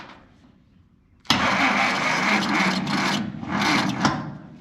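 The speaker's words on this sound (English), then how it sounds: "let's see if it will spin this engine" A 1955 Plymouth engine cranks on its starter, a loud abrupt whirring grind that begins suddenly after a quiet moment and churns on steadily with slight pulsing until the end.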